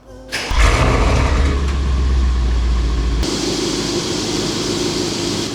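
A Mercedes E63S V8 cranks and fires up, then settles into a loud, deep, steady idle rumble close by, with no talking.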